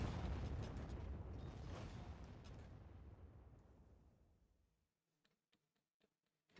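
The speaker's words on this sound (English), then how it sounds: "All you hear is just the sounds of, you know, artillery" Heavy rumbling artillery barrages from the Rusted Warfare real-time strategy game, a dense roaring wash of blasts that fades out over several seconds, followed by a few faint, scattered distant pops and thumps.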